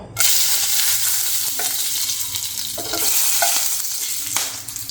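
Whole garam masala of cardamom, cinnamon and cloves frying in mustard and white oil, a loud, continuous close sizzle with occasional sharp pops and crackles.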